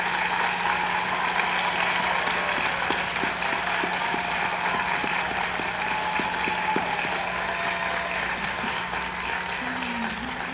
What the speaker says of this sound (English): Graduates, please stand and give a round of applause as thanks to your family and friends who are here today